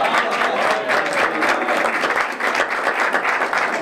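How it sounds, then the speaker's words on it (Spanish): An audience at an awards gala breaks into sustained applause, a thick, steady wash of many hands clapping together at close range with no clear voices over it. "Otro aplauso, va."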